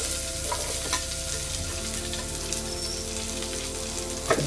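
Chopped onions frying in hot oil for mutton biryani give a steady close sizzle, with occasional stirring scrapes and small pops throughout and no voice over it.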